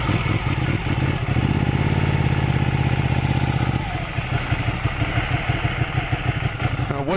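A motorcycle is ridden close up, its engine giving a loud steady drone that drops into a throbbing, pulsing rumble as the revs fall. A voice talks over it.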